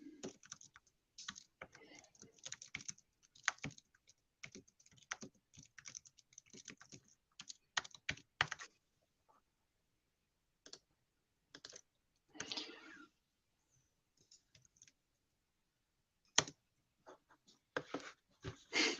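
Someone types a message on a computer keyboard, with quick bursts of close, crisp key clicks separated by short pauses and a few softer gaps.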